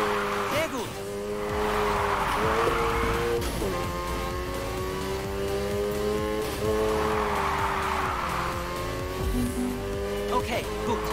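Car drifting with tire squeal in the Need for Speed Heat racing game, a loud continuous engine roar with sustained squealing tires swelling and fading, under a voice talking.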